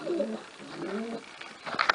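Soft, low pigeon coos roll in a couple of phrases nearby, followed by a brief flutter of sharper sounds at the end.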